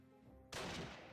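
Gunfire in the WWII strategy game Close Combat: Wacht Am Rhein: after a quiet moment, a sudden loud burst of shots hits and rings on for a fraction of a second.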